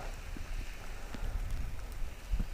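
Steady rain falls during a spring bass fishing outing, a faint continuous patter with soft scattered drops and low rumble, with no talking.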